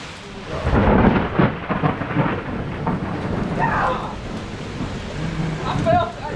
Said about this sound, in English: Yep, it's about to storm.